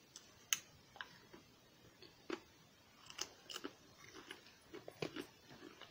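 Close, faint crunching and smacking as a denture wearer chews sour cream and onion Ruffles chips, irregular crisp bites and clicks with no talking.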